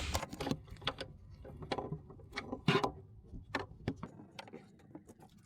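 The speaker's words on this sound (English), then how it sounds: "And we're just going to snug up this 13mm bolt" A ratchet wrench snugs a 13mm battery hold-down bolt on a BMW F30 3 Series, giving a series of sharp, irregular mechanical clicks and short bursts of ratcheting close to the listener.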